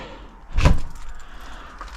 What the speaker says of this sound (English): Oh, that door is, front door is stuck.